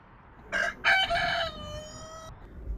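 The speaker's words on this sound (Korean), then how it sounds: "닭소리 한번 듣고 갈게요." A rooster crows once near an apartment complex, a loud close cock-a-doodle-doo rising and holding before cutting off, with faint low background rumble.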